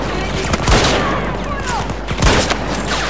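Bursts of rapid gunfire from the video game Battlefield 2042 crackle over a steady background, with two louder volleys standing out near the start and toward the end.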